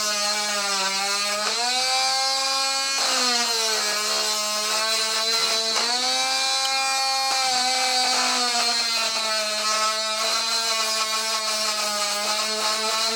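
A power tool whines steadily while polishing a rusty joystick part from an Atari Dig Dug arcade machine, its pitch dipping and rising as pressure on the workpiece shifts.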